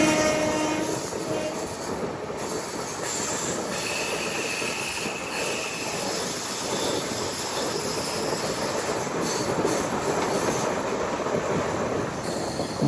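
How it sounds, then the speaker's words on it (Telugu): An express train from Madurai to Punalur rumbles past steadily on a crossing track at a railway crossover, with continuous wheel noise, clatter and high squeal throughout, close and loud. "మధురై నుంచి పులనూరు వెళ్ళే ఎక్స్ప్రెస్ అది."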